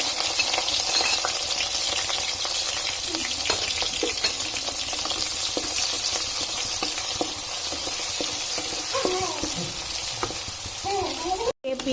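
Green chilies and onions fry in hot oil in a pan for an Assamese fish curry, a steady close sizzle with occasional stirring scrapes and a brief voice near the end.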